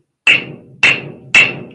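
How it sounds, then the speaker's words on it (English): Three loud, sharp hammer strikes on objects being flattened for gluing, each a bright metallic crack with a short ringing tail, spaced about half a second apart and heard alone. "this part's going to get loud because I'm beating stuff with a hammer"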